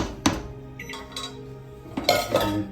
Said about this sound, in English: we'll stir it up and taste